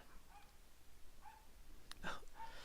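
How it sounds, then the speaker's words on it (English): A neighbor's dog barks a few times, faint and distant, with the sharpest yelp near the end. "Oh, that's the neighbor's dog."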